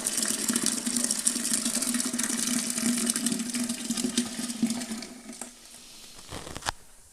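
Blackcurrant wine strains through a bag, a steady trickling, splashing flow of liquid that runs continuously, then thins and fades near the end with a few faint knocks.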